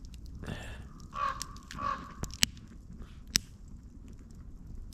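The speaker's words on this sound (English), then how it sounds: "If anybody knows what that means in crow speak" Two crow caws sound outdoors at a moderate distance over low background noise, with a couple of sharp knocks between and after them.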